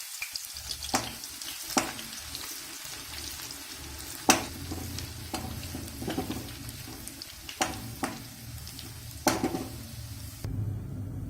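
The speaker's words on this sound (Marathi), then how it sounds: "आता राहिलेल्या लसणाच्या पाकळ्या देखील तळून घेऊ व मुरमुऱ्यावर टाकू." Garlic cloves fry in hot oil for Diwali bhadang chivda, with a continuous close sizzle and crackle broken by several sharp scraping clicks of a spoon stirring against the pan.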